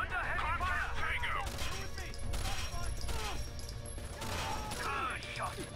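Sustained rifle fire rattles through a close-quarters firefight in Rainbow Six: Vegas, bursts of shots coming in clusters under frantic radio chatter and shouting.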